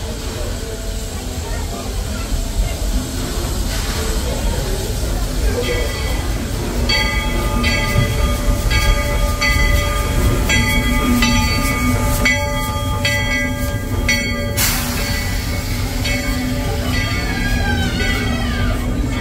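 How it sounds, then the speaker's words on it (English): A Magic Kingdom railroad train rumbles in loudly and steadily, with metallic squeals and clanking as it pulls up, and voices faintly underneath. "Here comes the St. Patty's Day train, everybody."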